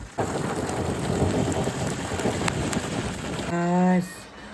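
Sudden heavy rain pours down in a steady, dense hiss that fills the scene, with a low rumble beneath and a brief tonal honk near the end.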